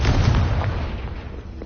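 Confringo fire spell exploding in a Harry Potter video game, a loud, dense burst of booming blast noise that rumbles on and slowly thins out over under two seconds.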